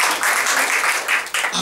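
A church congregation clapping in a brief, dense burst of applause that stays loud and even for its short length, with no speech over it.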